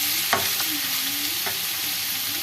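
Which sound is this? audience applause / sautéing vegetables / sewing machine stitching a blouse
sautéing vegetables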